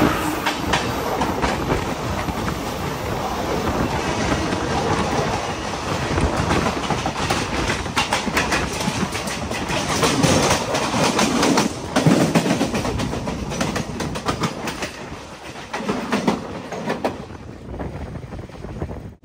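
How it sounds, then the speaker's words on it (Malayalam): Sampark Kranti Express sleeper train running at speed, a steady loud rumble of wheels on rails with rhythmic clatter and wind rush throughout, easing slightly near the end. "എന്തായാലും നേരത്തെ അവിടെ നിന്ന് വിട്ടേ ചോദിച്ചാ ഈ ഒരു സ്പീഡിൽ തന്നെയാണ് വണ്ടി പോകുന്നത്."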